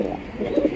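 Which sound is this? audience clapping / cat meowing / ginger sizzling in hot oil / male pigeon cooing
male pigeon cooing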